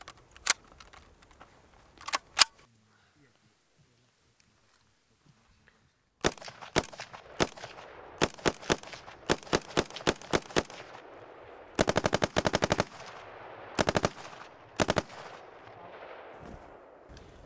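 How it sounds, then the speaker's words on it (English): An SA80 rifle fires a few sharp single shots, then a pause, then quicker shots and rattling fully automatic bursts, loud and crisp close by on a range, with no talking. "do some single shots first, and then open it up the automatic and just see the rounds going down on the range."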